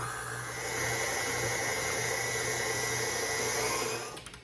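Stand mixer with a dough hook kneading honey bun dough, a steady loud motor whir with a constant hum that holds for several seconds before tapering off at the end.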